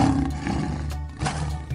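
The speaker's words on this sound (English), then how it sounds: "Lion." A lion roars loudly and close, a rough sustained growl broken into a few surges over about two seconds.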